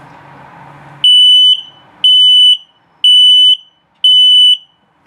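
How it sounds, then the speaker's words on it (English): Four loud, shrill electronic low battery alarm beeps from a detector in a 2022 CrossRoads Sunset Trail 268RL camper repeat about once per second with silence between them, close and sharp. "And then low battery alarm."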